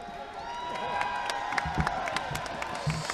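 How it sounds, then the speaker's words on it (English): Seminarians cheering and clapping at a basketball trophy presentation after a priests-versus-seminarians game in Houston, a lively indoor crowd of whoops, claps and shouts with sharp hand claps over the din. "Seminarians cheering here as they line up for a picture"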